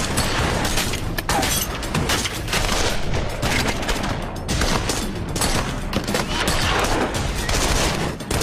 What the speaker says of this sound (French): C'était la première fois qu'on assistait à une fusillade d'une telle ampleur.